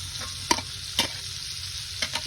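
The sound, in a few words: butter sauce cooking in a pan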